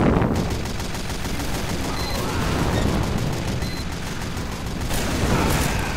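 Gunfire and explosions from the Team Fortress 2 shooter game: a steady, loud stream of rapid shots with booms in the mix, continuous throughout with no pause.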